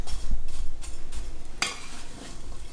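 Apples being stirred with brown sugar, cinnamon and lemon juice in a bowl, giving soft repeated scraping and stirring strokes with a sharper clink of utensil against dish midway, close and fairly quiet.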